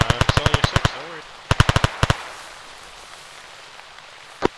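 Rapid gunfire in short bursts during a military operation: two tight strings of loud, evenly spaced shots, a brief pair after them, then a quiet stretch before one last distant crack.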